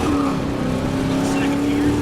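A 1989 Chevy truck engine roars loud and close as it accelerates, with a continuous droning growl and voices talking faintly beneath it.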